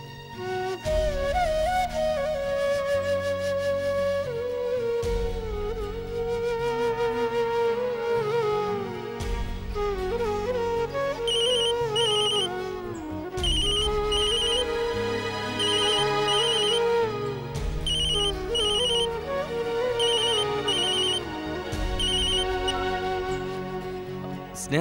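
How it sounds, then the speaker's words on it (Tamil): A phone ringtone plays over a Tamil TV serial's background music, a repeating electronic melody sounding in short bursts across the clip, loud and steady with no talk. "போன்"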